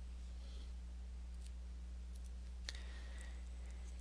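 A single mouse click on a Print button, one short faint tick over quiet room hum with a couple of softer clicks around it.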